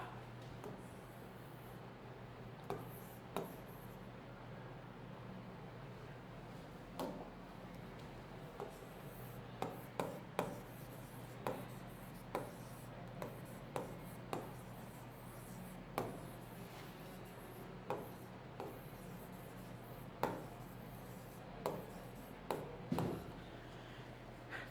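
Chalk or marker writing on a classroom board during a Bengali logic lesson, a steady run of short scratchy strokes and taps spread through the whole span, fairly quiet over a low background hum.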